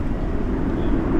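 An airliner lands at night at Dallas/Fort Worth with spoilers up and thrust reversers deployed, giving a broad, steady roar heard at a distance across the airfield.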